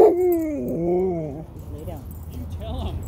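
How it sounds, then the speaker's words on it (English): A dog whimpers and lets out a rising, wavering howl, close and fairly loud, then trails off into softer whines with quiet background noise. "It's a dog, and you're fine."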